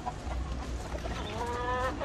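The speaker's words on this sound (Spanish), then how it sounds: "Y este es el gallino." A rooster in a breeding yard gives low, steady clucks that swell into a longer, tonal call near the end, heard up close against a dense farmyard background without speech.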